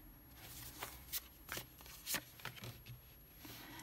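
Tarot cards shuffled and dealt by hand at a reading table, soft papery riffles and flicks in a quiet room, several brief bursts of rustling spread across a few seconds.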